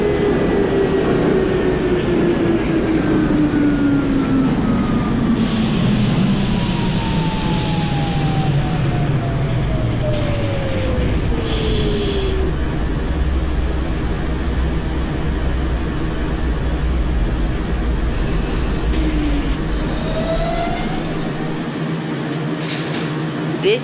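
A Coney Island-bound Q Express subway train runs in the OpenBVE train simulator game, producing a loud, steady rumble as the motor whine glides downward in pitch, with occasional clicks and clanks on top.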